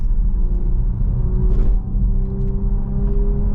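A 2025 Ford Puma Gen-E electric car driven flat out uphill, giving a steady low rumble and hum with a faint rising whine, loud and close inside the cabin, with no talk.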